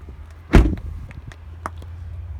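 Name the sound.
truck door shutting roughly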